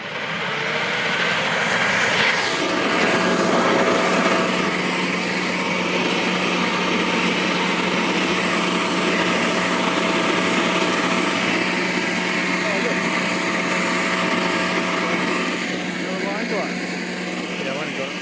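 An Ozito 36V cordless vacuum blower starts up after a short quiet moment, then runs at a steady, loud, high-pitched whir for the rest of the clip.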